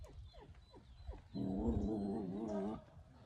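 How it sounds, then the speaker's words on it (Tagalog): A small dog whimpers and whines in short high cries, then lets out a longer sustained whining yelp, close and fairly loud, with no speech. "Liit lang, pero yan ang aso."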